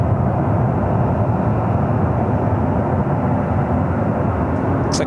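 An SAS airliner passes at LAX airport in Los Angeles, a broad, loud, steady jet roar that holds evenly throughout, with no talk.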